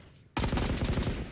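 Automatic gunfire in the tactical shooter game Valorant breaks in abruptly after a near-silent moment: a loud, rapid burst of shots in close succession that runs to the end.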